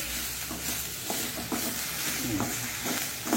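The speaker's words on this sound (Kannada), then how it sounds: "ಈಗ ಇದರಲ್ಲಿ ಒಳ್ಳೆ ಫ್ರೈ ಮಾಡ್ಕೊಳ್ಬೇಕು, ತುರಿಗೆ ತುಪ್ಪದಲ್ಲಿ ಅದು ಫ್ರೈ ಆಗಬೇಕು." Mushrooms fry in ghee for a Mangalore-style sukka, a steady close sizzle with intermittent scraping from a spoon stirring the pan.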